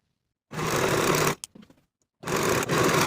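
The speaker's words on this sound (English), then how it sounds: "I'm going to finish those center back edges using my serger" A serger overlocks the center back edges of a jumpsuit bodice in two steady, loud motor runs, separated by a short pause with light handling clicks.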